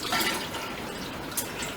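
Warm water runs steadily from a kitchen faucet into a one-gallon container, a continuous rushing splash of moderate loudness with no speech.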